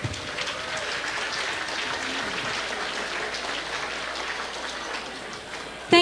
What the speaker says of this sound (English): let's give them another round of applause for their amazing performance